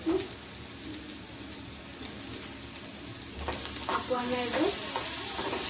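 Spices with salt and turmeric frying in a pan give a continuous hiss that grows louder and brighter halfway through, with stirring scrapes near the end and no talking.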